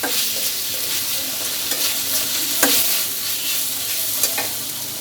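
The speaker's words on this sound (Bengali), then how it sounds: "এভাবে করে আমি মাংসগুলো সব ভেজে নিলাম" Chicken pieces frying in a pan with a loud, steady sizzle up close, and a few sharp clicks from stirring. No one speaks.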